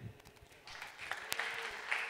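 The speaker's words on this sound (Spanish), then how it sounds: "Los aplausos para ustedes, la gloria de Dios." Audience applause at a freestyle rap event swells after a quiet start into steady, moderately loud clapping from a crowd, continuing through to the end.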